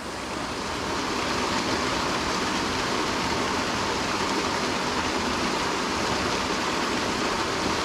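A wild, ancient stream rushes steadily as a broad, dense wash of flowing water. It is loud and close, constant from start to finish, with no voices.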